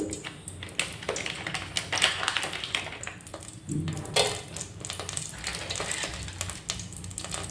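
A handful of cloves dropped into hot oil, crackling and popping in sharp irregular bursts over a soft sizzle, close to the pan, with no speech.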